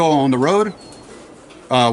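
Racing pigeons coo in a large one-loft race loft, low warbling calls rising and falling in two short bursts with a quieter gap between, close by and mixed with a voice.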